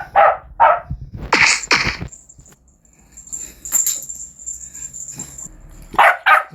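A dog barking loudly and close by, several sharp barks at the start and again at the end, with quieter whimpering and rustling in between.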